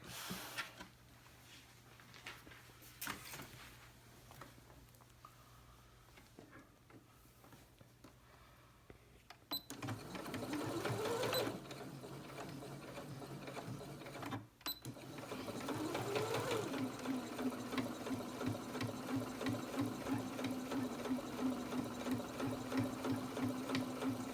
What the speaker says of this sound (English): we're going to sew along here and along here to create the pocket